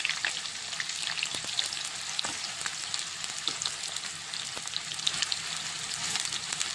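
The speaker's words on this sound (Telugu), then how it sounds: "ఎర్రగా కాల్చుకోవాలి ఉల్లిగడ్డ" Onions frying in hot oil for Telangana-style mutton keema biryani, a dense, even crackling sizzle with scattered pops and spits, close and loud, running without pause and with no voices.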